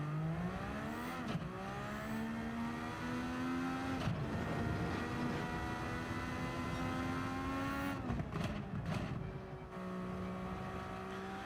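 A McLaren MP4/4 race car lapping Sao Paulo in Gran Turismo 7: a loud, high-revving engine climbing through the gears with sharp drops at each shift, held close throughout, with no talk.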